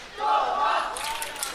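A crowd cheers and shouts for a French athlete on Stage 3 of the 2024 World Ninja League Championships, a brief, loud swell of massed voices in a large venue.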